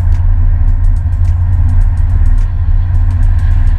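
Fiat 124 Spider cruising with the top down, a steady low road and engine rumble under constant wind buffeting, with faint repeated ticks over the noise throughout.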